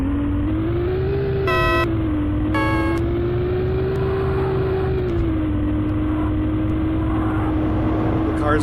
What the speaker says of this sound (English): I haven't heard a single horn in the game until now.